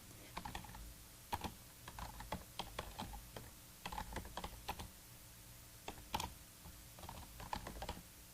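Computer keyboard typing, rapid irregular key clicks in quick bursts with short pauses, close and quiet, no talk.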